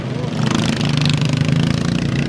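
Racing lawn mower engines at a vintage steam rally, a loud, steady buzzing drone close by with a rough, sustained roar and no letup.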